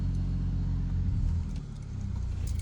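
A Mercedes-AMG CLA 45 sits idling as it warms up, a steady low rumble that stays close and even throughout, dipping slightly partway before settling back to the same level.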